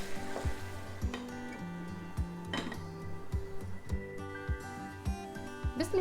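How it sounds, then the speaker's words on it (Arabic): Chicken for tacos being stirred in a frying pan, with repeated close metallic clinks and scrapes of a utensil against the pan over a faint sizzle, in a quiet kitchen. "هقلب كده تقليبه خفيفه واسيبها بقى تكمل السوا بتاعها"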